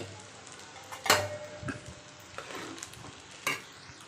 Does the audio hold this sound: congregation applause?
no